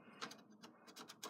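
Slot-loading DVD drive in an iMac G4 drawing a disc back in: soft mechanical whirring and clicking bursts, quiet and close, with no voices.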